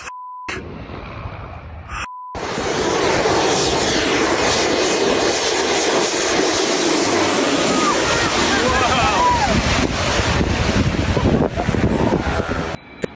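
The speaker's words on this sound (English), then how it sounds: "A320 attempted to land at Chennai Airport during Cyclone Fangal. Strong crosswinds made the landing extremely challenging." An Airbus A320 jet lands at Chennai Airport in strong cyclone crosswinds. After a few seconds of clipped, cut-up sound, a loud sustained engine roar sets in, mixed with heavy wind buffeting, and holds close and powerful to the end.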